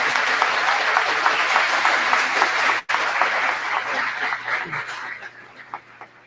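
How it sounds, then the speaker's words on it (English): Conference audience at a festival conference center applauds loudly and continuously, a dense wash of clapping that briefly cuts out, then carries on and gradually thins and fades. "So can I get a really big round of applause for Jason?"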